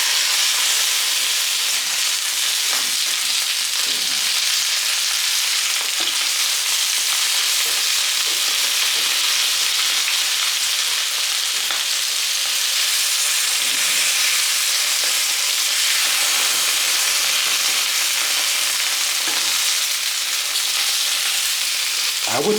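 Roasted potato slices sizzling loudly in a pan, a dense, continuous frying hiss with occasional scraping and clinks as they are stirred, close up and steady throughout, no voices.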